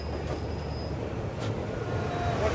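El Chepe passenger train on a single-track line in Copper Canyon, Mexico, meeting the other passenger train at a historic crossing: a steady, close rail rumble with faint metallic squeals and a thin high whine, no talk.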